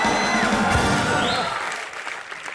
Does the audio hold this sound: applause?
yes